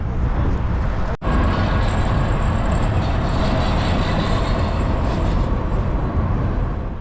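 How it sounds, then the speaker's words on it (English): A train rolls past near a Union Pacific station in Utah, a loud, close, steady rumble and rattle of wheels with a faint high metallic squeal, holding strong throughout. "it looks like the train is coming over here this way."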